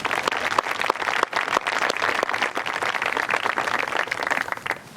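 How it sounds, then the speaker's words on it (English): An audience at a high school National Honor Society induction ceremony breaks into applause, dense overlapping clapping from many people that continues for about five seconds with slight swells and dips. "Please join me in thanking them with a round of applause."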